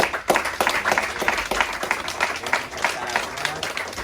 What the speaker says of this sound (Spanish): todos queremos darle un aplauso a esas personas que se han incorporado